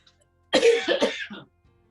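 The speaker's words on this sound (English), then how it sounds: "Of all times for me to start coughing." A woman coughs and clears her throat in a home kitchen while preparing Swiss chard chips: a short burst of several harsh, close coughs lasting about a second, then quiet.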